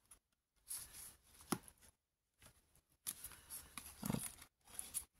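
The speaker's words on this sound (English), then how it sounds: "Little sharp scissors." Small sharp scissors snip through packing paper in short bursts, several crisp cuts with pauses between, close by and fairly quiet.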